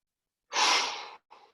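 A deep breath drawn in during a yoga exercise: one long, close, airy inhale, followed after a short pause by a brief second breath, heard alone in a quiet room.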